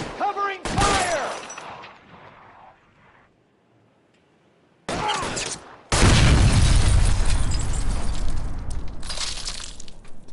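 Covering gunfire in the L.A. Noire video game, a brief shouted voice at first, then after a lull a sudden loud burst of rapid shots, booms and shattering that stays dense and continuous, with raised voices mixed in.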